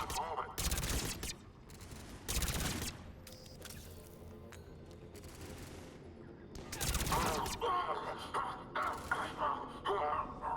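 Bursts of gunfire in the Mass Effect Legendary Edition video game, several loud volleys with a longer rattling fusillade near the end, broken by quieter gaps.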